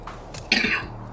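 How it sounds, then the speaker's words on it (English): A single throaty cough bursts out close to the microphone, preceded by a softer throat-clearing rasp, from a person who is ill. "pardon my intermittent cough"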